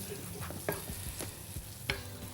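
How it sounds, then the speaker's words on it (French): Pearl barley going into a pot with butter and onion, sizzling in a steady hiss, with several close spoon scrapes and clicks as it is stirred. "Là maintenant on va mettre l'orge perlée"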